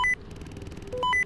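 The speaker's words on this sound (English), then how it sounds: "Oh, someone's calling. I should pick up." Incoming call beeps in a surveillance video game, a few loud electronic tones in quick succession, a short pair at the start, then a rising sequence near the end, over a quiet hum.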